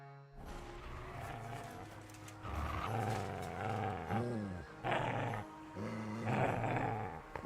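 A dog in Kingdom Come Deliverance 2 growls and snarls in several rough, close bursts spread over a few seconds, set against a low ambient drone with no talk.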